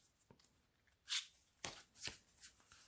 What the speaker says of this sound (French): Elle glisse super bien comme vous le voyez, super agréable à mélanger.